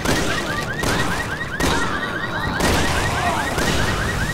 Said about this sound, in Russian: Выключи эту сигналку!